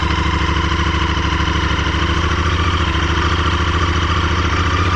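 A Royal Enfield Continental GT 650 fitted with aftermarket pipes rolls across wet grass, its twin-cylinder engine giving a steady, loud, close drone with an even pulsing throb and no pauses.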